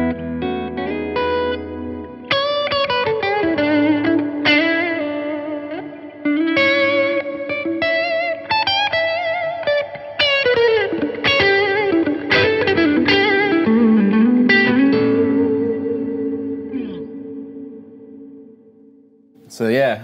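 Chapman Rabea Massaad signature electric guitar, Standard model, played through reverb: a run of picked notes and strummed chords with lush ringing tails and some grit, dynamic attacks, fading toward the end before a final sharp hit.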